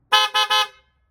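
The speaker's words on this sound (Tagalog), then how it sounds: "Test the horn if it's working." Three quick, loud blasts from a newly installed horn on a 2008 Toyota Camry sound at close range in a fast burst with no talk.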